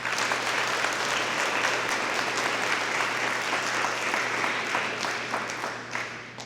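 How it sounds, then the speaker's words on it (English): Dense, sustained round of applause from an audience at a National Honor Society induction ceremony, holding steady for several seconds and then gently thinning out at the end. "Let's give them a round of applause."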